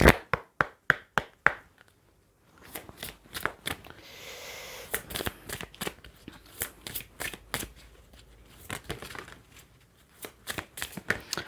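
Oracle cards being shuffled by hand, a rapid series of crisp riffling snaps and flicks close up, in bursts with a short pause partway through, without talk.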